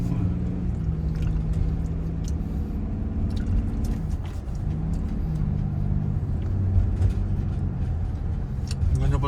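Steady road traffic rumbles past a moving car, with engine drone and tonal hum holding throughout at a fairly loud, even level, and faint background voices now and then.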